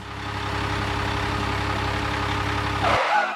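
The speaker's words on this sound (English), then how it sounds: "Look, the wood transporter is coming." A wood transporter truck's engine idles and runs steadily near the microphone, a constant low diesel drone that cuts off abruptly, followed by a brief rise of other noise.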